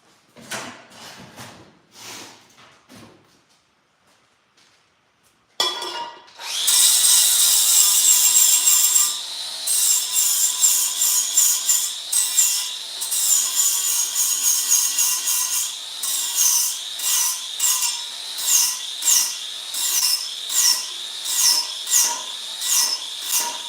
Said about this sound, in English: I think I'm just gonna hit this one with sander real quick